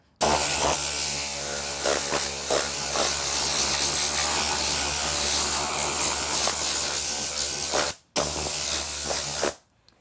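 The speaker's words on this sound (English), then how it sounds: "I always take my blow tool and I just simply blow off the mat and get all the loose debris and everything off of here" An air blow tool hisses steadily and loudly at close range, clearing loose debris off a WeatherTech floor mat, cutting out briefly near the end before blasting again.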